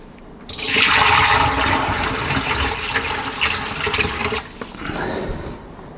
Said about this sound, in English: I'm going to pour some water in there.